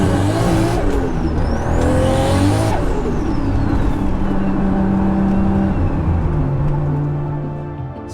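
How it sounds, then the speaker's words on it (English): Heavily modified 1000 hp Toyota Supra drag-style car, engine loud and close, revving hard with rising and falling pitch over a choppy, throbbing low rumble that fades slightly at the end. "The idle's like brop, brop, brop, brop, brop, brop. It sounds like a proper drag car."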